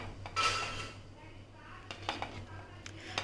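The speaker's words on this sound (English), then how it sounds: "Now let us add the rice and mix it with this." Cooked rice is stirred into a capsicum mixture in a pan, producing soft scraping and clinking of a utensil against the pan in irregular bursts, fairly quiet, with a low steady hum under it.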